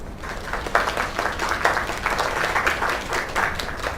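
An audience gives a round of applause after a singer's performance, a full, sustained burst of many people clapping that stays loud and even from start to finish.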